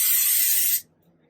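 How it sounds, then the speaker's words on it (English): A can of cooking oil sprays onto potatoes in a single loud, close hiss lasting most of a second, then cuts off sharply into quiet. "We're just gonna spray."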